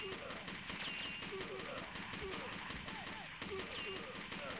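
Automatic machine gun fire in the arcade shooter Virtua Cop 2, dense rapid bursts with game sound effects layered over a steady busy mix, loud and continuous.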